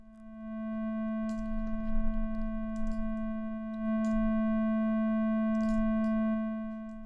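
A 220 Hz sine wave run through distortion in Max/MSP gives a steady buzzy tone rich in harmonics, held continuously while a faint rhythmic pulse flickers underneath.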